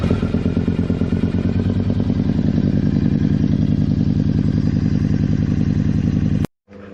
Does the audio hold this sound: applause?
no